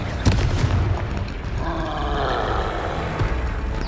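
A Confringo blasting spell explodes in Hogwarts Legacy, a sharp crack followed by a roaring, rumbling burst that swells and lingers for a couple of seconds amid combat noise.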